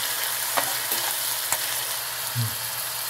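Tomatoes and curry leaves cook in a pan for Nagpur-style tari poha, a steady moderate sizzle with a few light stirring taps and a low thud near the end, no one talking.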